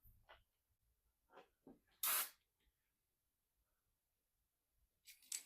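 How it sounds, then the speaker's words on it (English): Rust-Oleum black spray paint from an aerosol can, used on a cheap roof replacement: several short hissing bursts, one loud and close, then a pause and a final burst, with faint clicks between. "These do spray out really, really quick, but of course they put out a lot of product too"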